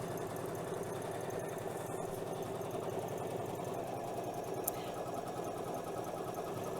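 An embroidery machine stitches out a quick motif with a steady, rapid mechanical needle rhythm, constant and close throughout with a faint tick partway, no talking.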